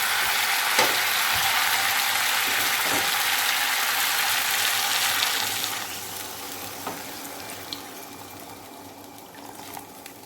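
Water is poured into a pan of frying chicken and potato curry, a loud steady sizzle and rush that quiets after a few seconds to a softer simmer with small pops.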